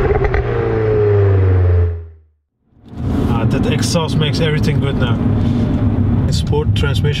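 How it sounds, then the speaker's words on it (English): A Mercedes A250 exhaust growls loudly while driving, cuts briefly to near silence, then returns as a dense rumble with crackling and whirring over the top. "Exhaust makes everything good now."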